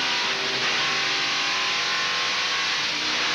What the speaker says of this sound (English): you can hear him get on and off the gas as he goes through the corners here